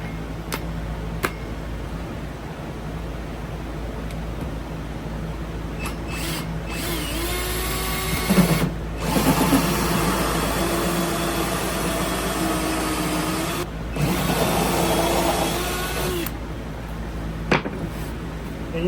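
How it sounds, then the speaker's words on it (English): A battery power drill whirs continuously in a broad, noisy drone, drilling holes in a wooden table, with brief pauses and restarts between bursts of drilling. "I'm drilling holes in my table"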